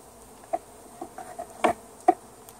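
Honey bees buzz on a hive frame during an inspection, a faint background hum broken by several short, close buzzing bursts.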